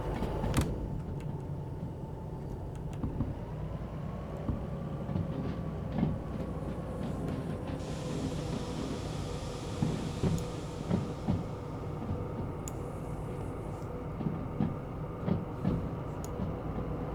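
A locomotive runs along rails in the Derail Valley train simulator, giving a steady low rumble with faint rhythmic clicks of wheels over rail joints. It plays alone throughout, with no talk.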